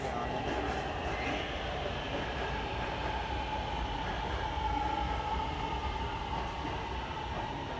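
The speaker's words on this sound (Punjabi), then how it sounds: "ਟ੍ਰੇਨ ਆ ਗਈ ਹੈ।" A metro train pulls into the station with a loud, steady rumble of wheels and a sustained whining motor tone throughout.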